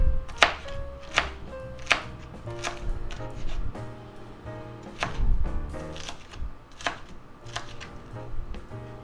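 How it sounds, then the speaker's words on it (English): A knife chops small peppers on a cutting board in sharp, uneven knocks, about a dozen over several seconds, close and clear with no talking. "Chop them up."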